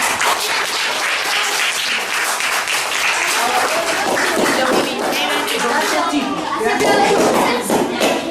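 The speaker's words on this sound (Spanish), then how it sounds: "Un aplauso para Vivi." A small group gives a grandmother a round of applause, a steady clatter of clapping hands close by, with voices chatting over it.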